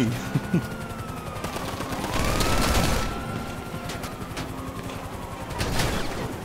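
Gunfire in the GTA V video game: bursts of shots crackle through a dense, busy game mix, loud and continuous across the stretch, with occasional louder volleys.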